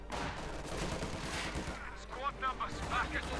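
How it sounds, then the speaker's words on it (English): Sniper fire crackles through a Company of Heroes 2 battle, a dense, steady barrage of gunshots and explosions. Voices are faintly mixed in beneath the shooting. "Panzers moving up, snipers firing away"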